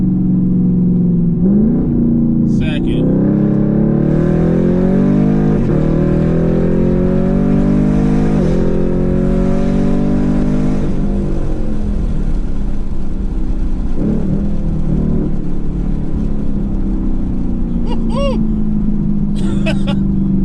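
A loud Chevrolet Camaro V8 with an MRT off-road H-pipe revs hard through second gear, pitch climbing and dropping as it accelerates, with a steady heavy exhaust rumble throughout.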